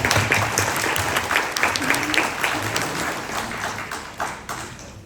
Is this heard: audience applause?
yes